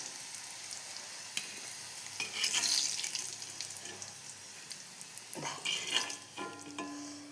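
Pieces of elephant foot yam sizzle and crackle in hot oil in a pan, with a soft, steady frying hiss broken by a few clinks and stirring noises.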